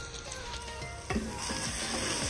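For masale bhat, garam masala, red chili powder and onion-garlic masala are stirred in a sizzling pan, producing a steady, close frying sizzle with a brief spoon scrape and no talking.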